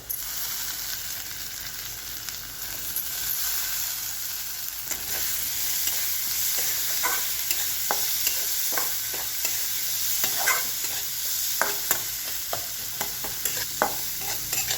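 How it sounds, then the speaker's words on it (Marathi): Pea and cauliflower curry with masoor dal, salt, coriander and black chilli being sautéd in a pan: a steady sizzle with spoon scrapes and clinks growing more frequent midway, close and alone, no voices. "सर्व साहित्य चांगलं आपलं परतून झालेलं आहे।"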